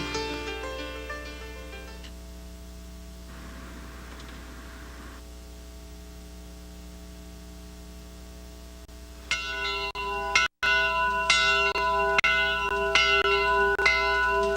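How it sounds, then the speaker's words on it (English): A church bell tolls in long ringing strikes that fade into a low hum, then sounds again in several loud, overlapping clangs, with no voices. "I fought so hard to get that bell back, so he always calls that Nell's bells"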